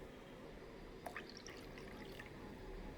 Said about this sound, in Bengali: এবার এর মধ্যে আমি এই বড় কফি মগের দেড় মগ আমি জল দিয়ে দিচ্ছি